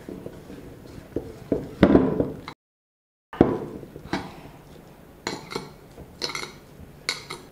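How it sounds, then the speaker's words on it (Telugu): Green pea pakodi batter being mixed firmly in a metal bowl, with repeated clinks and scrapes of a utensil against the pot, a brief silent break midway, then more scattered stirring clatter close by. "గ్రీన్ పీస్ పకోడీ వేస్తున్నాం కదా, సో కాస్త గట్టిగా కలుపుకోవాలి."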